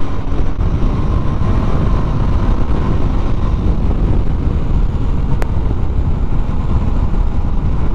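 Motorcycle engine running steadily while riding in the evening, low fuel, a loud continuous rumble mixed with wind buffeting throughout, no talking.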